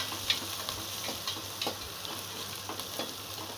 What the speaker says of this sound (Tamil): கருவேப்பிலை போட்டு நல்லா தாளிச்சிக்கோங்க